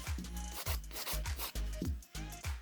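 A nail file rubs back and forth over gel on a salon nail infill, blending it down in quick, steady, close strokes with no talking.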